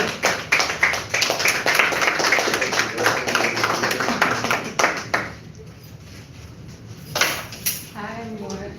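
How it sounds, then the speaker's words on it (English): Audience applause for a woman introduced at a community peace summit, a dense run of clapping that goes on for about five seconds before falling off, with a short burst again near the end. "Let's give her a round of applause."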